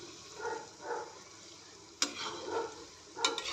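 Shankarpali, crisp layered pastry pieces, fry gently in oil on low heat with a soft continuous sizzle, stirred now and then, plus a couple of sharp clinks of a utensil against the pan.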